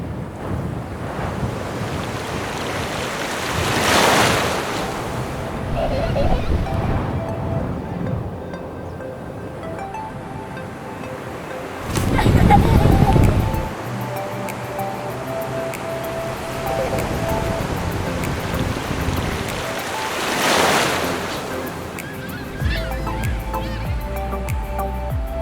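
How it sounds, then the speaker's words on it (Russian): Surf washing onto an empty beach in Vietnam, with waves swelling and breaking in long broad surges around four, twelve and twenty seconds amid steady wind and a continuous background roar. "Можно просто слушать тишину, прерываемую лишь шумом прибоя."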